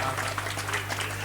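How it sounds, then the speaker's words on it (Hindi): Short burst of audience clapping at a Ramayana recital, a dense fairly distant patter over a constant electrical hum. "एक बार जोरदार ताली बजा दो"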